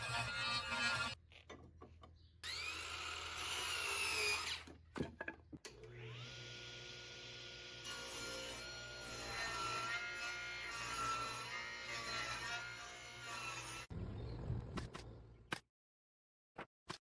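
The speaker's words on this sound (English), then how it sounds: "This intense, repetitive milling phase transforms raw timber into uniform architectural components" Power tools milling raw timber into uniform beams for a backyard timber-frame pavilion, a loud sustained whining grind running in long continuous passes with brief pauses between cuts.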